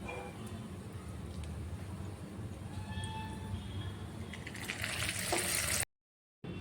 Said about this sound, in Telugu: ఇదే విధంగా మిగిలి ఉన్న గోబీని కూడా ఆయిల్లో వేసి డీప్ ఫ్రై చేసుకోవాలి